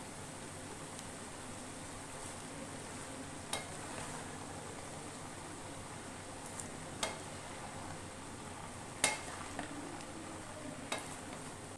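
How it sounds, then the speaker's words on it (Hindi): Mooli and palak sabzi (radish and spinach) is stirred with spices in a pan, giving a faint, low sizzle with a few sharp spoon clicks against the pan scattered through it. "इनको अच्छी तरह हिलाना ताकि तमाम मसाला जो है इसके अंदर मिक्स हो जाए।"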